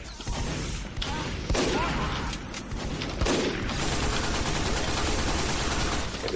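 Gunfire from a sniper rifle in the video game Team Fortress 2, scoring a headshot amid dense, continuous game noise, with a couple of sharp cracks standing out over a busy battle mix.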